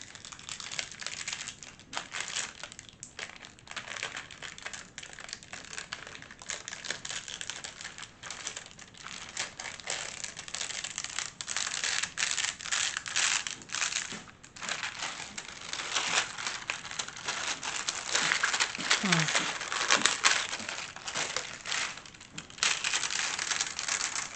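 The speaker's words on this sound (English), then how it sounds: "let's try to pull off the transfer tape" Transfer tape peeling away from a sublimation and rhinestone vanity tag, heard as a long run of close crinkling, crackling and ripping noise that swells and eases with short pauses, with no talk.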